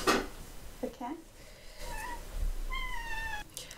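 A cat meows a couple of times, fairly faint, over a background hiss while a person talks nearby.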